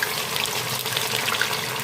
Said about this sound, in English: so I will be adding my sweet tomato stock